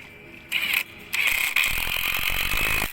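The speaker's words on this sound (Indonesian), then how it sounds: "Nah, kita sekrup L-nya di sini di belakang." An L bracket is screwed onto a rustic pergola backdrop. A power screwdriver whirs loudly and close in short bursts, then settles into one sustained drive with a rattling ratchet-like buzz.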